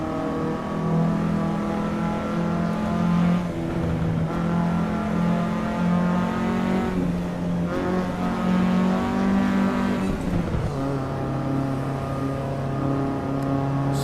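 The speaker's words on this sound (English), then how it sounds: "is my microphone audible above the car engine?" A race car in the sim racing game Assetto Corsa EVO drones loudly and continuously, its engine pitch rising and falling through gear changes and revs, with a noticeable drop near the end, no speech present.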